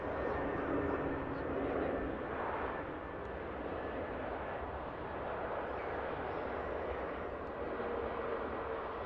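A Ryanair airliner arriving from Malaga at Manchester Airport gives a continuous distant jet rumble and rushing roar, fairly faint and steady, with a voice speaking over it.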